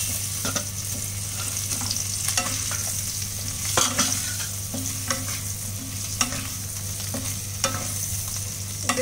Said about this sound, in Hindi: अब हम इसमें ये हल्दी डालेंगे और अब इस आलू को इसमें अच्छे से फ्राई कर देंगे